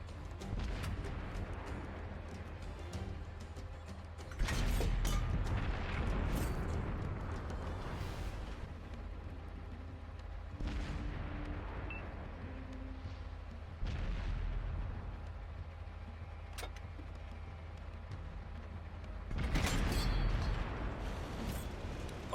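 Tank cannon shots and an ammo rack detonation in World of Tanks on console, with several heavy booming blasts spaced several seconds apart over a steady low rumble, the last burst sharp and loud.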